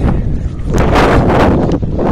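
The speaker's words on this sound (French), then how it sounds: "Désolé, mais il y a du vent." Strong wind buffeting the microphone outdoors on a mountain stretch of the Camino Francés, a loud, close, continuous rumble with gusty swells and no voices.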